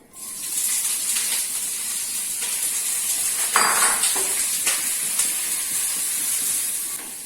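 Spring onion and peppercorns tossed into a hot pan for Schezwan chilli garlic noodles give a loud, constant sizzling hiss, broken by a few metallic clanks of the utensil near the middle, with no talking.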